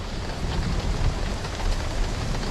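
Heavy rain pouring down at night during a thunderstorm in Hebei, a dense, loud, continuous roar of drops with some low rumble and wind buffeting, no voices.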